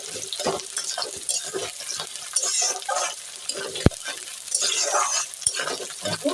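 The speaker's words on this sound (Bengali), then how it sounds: "আমি আগেই বলেছি পেঁয়াজটা ভাজাতেই দেবো, ভেজেই দেবো পেঁয়াজটা," Sliced onions sizzle in hot oil in a pan for a village-style cucumber and shrimp curry, with steady crackling frying and intermittent clinks and scrapes of stirring.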